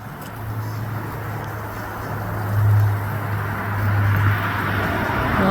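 A car on the move after a fishing trip, its steady low road rumble and broadband tire noise continuous and close throughout, swelling slightly twice, with no talking.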